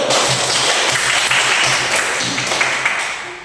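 Students in a teaching-practice classroom clap together, a loud, close, even burst of applause lasting a few seconds and easing slightly as it ends.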